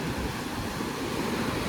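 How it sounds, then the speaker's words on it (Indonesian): High waves of the southern Java sea crashing at Gopit beach in South Malang: a continuous loud, broad roar of surf with wind rumble, steady throughout and no voices. "Tuh bisa dilihat ombaknya sangat tinggi."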